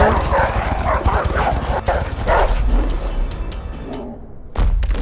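Dogs in the video game A Way Out bark and chase in a busy, noisy game scene, with thumping footfalls and short yips mixed through dense background action, loud and close.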